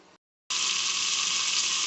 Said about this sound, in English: I have added my blue bonnet butter to that. And as you can see and hear that it is starting to melt